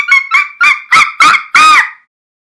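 Tropical birds in a rainforest canopy, a toucan and a macaw, give six loud harsh squawks in quick succession, each louder than the last, the final one drawn out, with no talking.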